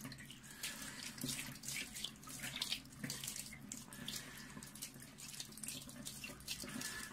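Distilled water poured and splashing for cleaning a SkyWatcher 300P 12-inch Flextube Dobsonian telescope mirror, a continuous faint trickling, running-water wash with small irregular splashes, heard alone.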